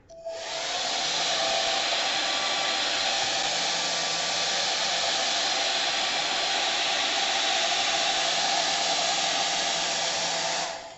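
A hair dryer blows steadily onto a wet watercolor sky painting, a loud, close, continuous whoosh that starts abruptly and runs unbroken for about ten seconds.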